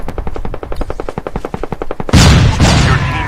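Rapid automatic gunfire in the mobile shooter Call of Duty Mobile during a competitive esports match, a fast even stream of shots giving way to a loud sustained burst like a flashbang or explosion, close and dense.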